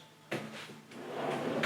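A large, deep kitchen pot drawer slides on its runners, giving a near, smooth rolling rush that swells and settles in two quick movements.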